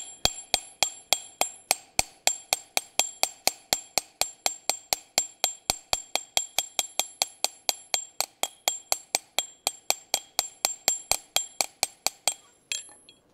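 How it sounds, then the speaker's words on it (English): Hammer blows on a forged iron leg of a colonial trivet, a long steady series of sharp ringing metallic strikes, evenly spaced and close, ending with a softer clatter. "give that a little bit more tap with a bigger hammer"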